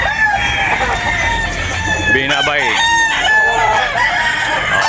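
Roosters crowing loudly and close at a fowl market in the Philippines, with overlapping drawn-out crows and clucking over constant crowd noise, and someone speaking briefly.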